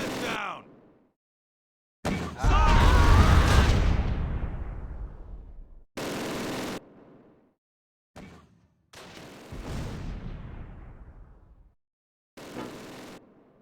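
Mortar shells explode in the video game Close Combat Wacht am Rhein as a series of separate heavy booms, each with a rumbling, decaying tail, spaced irregularly with short silences between them.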